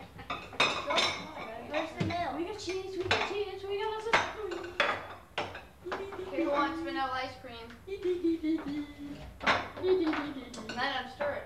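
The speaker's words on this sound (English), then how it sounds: "Then I'm stirring. It's yogurt now." Yogurt stirred in a bowl, a spoon clinking and tapping against it in scattered knocks while several people talk continuously over it at a family birthday gathering.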